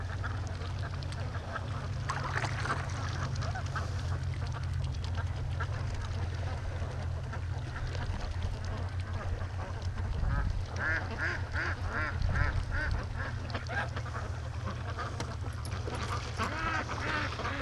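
Muscovy ducks on a free-range lake give off repeated quacks and honking calls over a steady low rumble, continuous and moderately loud throughout.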